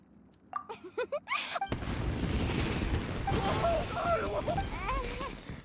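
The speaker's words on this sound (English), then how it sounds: "It sounded like fireworks." Fireworks bursting in the Genshin Impact video game: a dense, loud crackling barrage of explosions that follows a few brief tonal game sounds, with popping and whistling textures continuing throughout.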